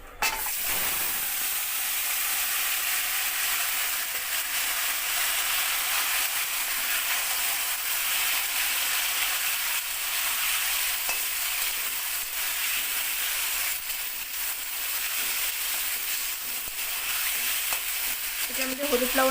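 Mutton dropped into hot oil with cumin hisses into a loud, steady sizzle that fills the scene, a continuous bright frying crackle with faint stirring near the end.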